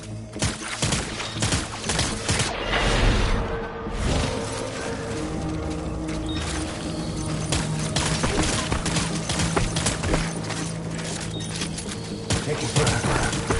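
Gunfire in a PS4 video game, dense continuous volleys of rapid shots and clattering impacts throughout, with brief voice callouts mixed in.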